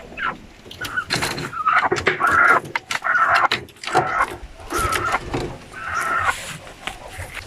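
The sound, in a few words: native chicken clucking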